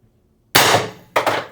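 A Pistelle X-68 CO2 air pistol with a birdcage-modified MCS Reaper suppressor fires after a moment of silence. One sharp, loud crack is followed a half-second later by a second short burst, close and clear.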